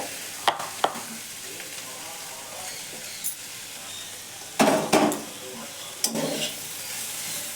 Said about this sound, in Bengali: এবার আমি এর মধ্যে লঙ্কাটা দিয়ে দেবো।